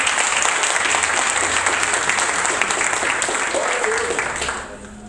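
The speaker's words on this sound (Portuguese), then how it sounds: "Aplauda o nome do Senhor Jesus." A church congregation applauds in a loud, dense wash of clapping that keeps up steadily, then fades out toward the end, with a voice briefly heard under it.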